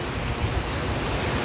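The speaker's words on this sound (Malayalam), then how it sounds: "നല്ല കാറ്റടിക്കുന്നുണ്ട്." Strong wind blows at an open hilltop viewpoint, a dense, steady rushing roar buffeting the microphone, loud and close, with no talking.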